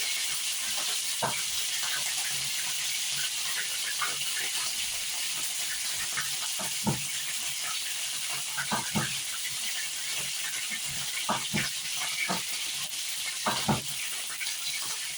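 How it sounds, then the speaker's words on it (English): Mushrooms sizzle and hiss in hot oil in a pan while lamb kofta is being cooked. A constant bright hiss carries through, with small pops and crackles scattered over it. "That's the moisture from the mushrooms reacting with the oil."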